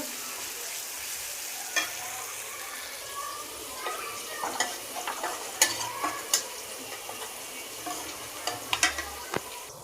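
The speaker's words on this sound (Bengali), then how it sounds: "এখন হচ্ছে পেস্টটা ভাজা ভাজা করে উঠাইবো।" Spice paste for a mashed bhorta frying in a pan, a steady soft sizzle with scattered sharp crackles and spatters from the oil, heard close up with no talking.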